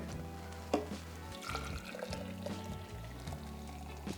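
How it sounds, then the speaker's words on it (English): Liquid pouring into a Ninja HeatStore drink cup, a short splash then a steady soft fill and trickle close by, over a low background hum. "Pour that in."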